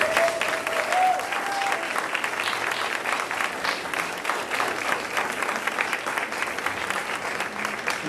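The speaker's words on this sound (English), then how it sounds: "I'd like a round of applause for Dr." An audience claps at a university spring pops music concert, a dense, sustained round of applause filling the room at steady volume.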